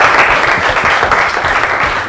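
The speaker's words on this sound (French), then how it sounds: "Applaudissez très fort." Loud, dense applause from an audience, steady clapping filling the whole stretch without pause.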